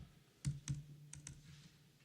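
Quiet typing on a computer keyboard during a security conference demo, a handful of sharp, irregular key clicks spaced through a faint room hum.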